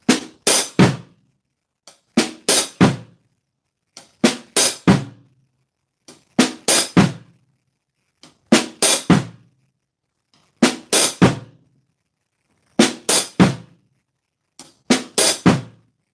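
A drum kit plays a short flutter lick, loud right-hand strokes and bass drum hits in quick clusters, repeated eight times at a steady pace with brief silent gaps between phrases.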